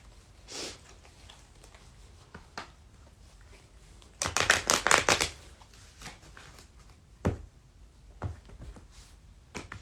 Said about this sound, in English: Making sure it's thoroughly shuffled.